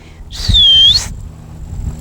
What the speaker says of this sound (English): Come, that's my whistle.